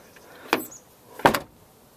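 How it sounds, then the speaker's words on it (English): A car door with a freshly repaired stuck latch is worked twice: a sharp mechanical clack, then a louder solid slam with a short rattle, both close and alone in a quiet space. "Now, I release the handle, close the door."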